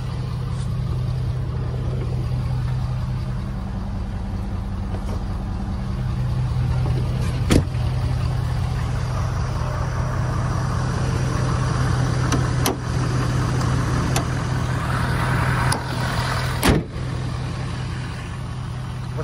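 A 2012 Ford F-250 King Ranch crew cab FX4 with a 6.7-liter Powerstroke diesel idles steadily close by, a low continuous engine rumble with a few sharp clicks over it.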